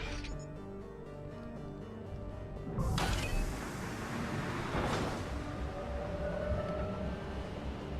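A tram moves in the video game Mass Effect 3 as a low rumbling ride with a couple of louder whooshing swells. Faint game ambience sits underneath.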